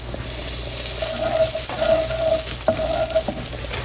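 Minced garlic sizzles in olive oil with softened onion, a steady crackling fry with a few faint clicks of a utensil against the pan.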